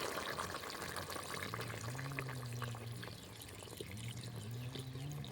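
Milk pours into a simmering pot of shukto, a Bengali vegetable dish, with a soft continuous gurgling and splashing. The sound is faint and close, and a low hum runs beneath it.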